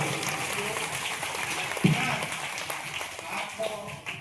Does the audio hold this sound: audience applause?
yes